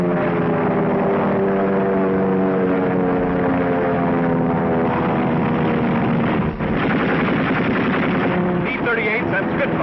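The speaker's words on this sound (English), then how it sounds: "Spitfire dives on a Messerschmitt." WWII Spitfire diving on a Messerschmitt in a dogfight over North Africa, a loud continuous roar of piston aircraft engines with droning harmonic tones running throughout, on an old narrow-band recording.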